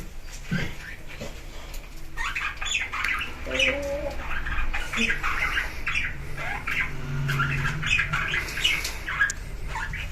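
Pet birds in a cage squawk and chirp almost constantly, in busy, overlapping bursts close by, with a dog-like whimper in places.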